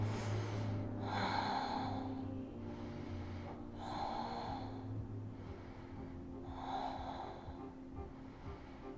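Rhythmic belly breathing in a yoga class, three clear cycles of breath filling and emptying, each a soft airy swell close up over a low steady background hum.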